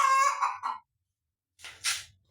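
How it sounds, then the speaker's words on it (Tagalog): A farm chicken gives a quick series of clucks up close, then falls silent before a pair of soft breathy sounds follow, with no talking. "Bal, nandito na naman yung manok."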